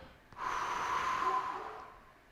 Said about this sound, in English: So this is diaphragmatic breathing. And when you exhale,